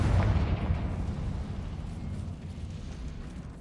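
A Confringo blast spell exploding in Hogwarts Legacy, a single heavy rumbling boom that peaks at once and then fades into a long, low decaying roar.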